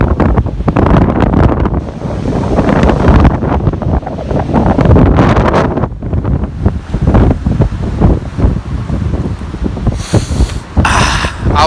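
Squall wind roars in gusts against the microphone at seaside Kobuleti, with surf and waves crashing beneath, loud and continuous throughout.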